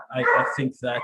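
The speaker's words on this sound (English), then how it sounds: "sorry for the dog barking" A dog barks a few times in the background during a webinar, its short woofs overlapping a man's speech.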